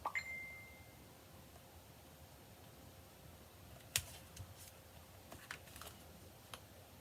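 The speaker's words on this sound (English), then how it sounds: "I don't know how to turn her phone off over here, so we're just gonna listen to it ping" A phone notification gives a single clear ding at the start, followed by faint clicks and small taps in a quiet room.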